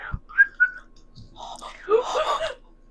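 A person whistles a few short, thin tones near the start, followed by breathy voice sounds and brief talk.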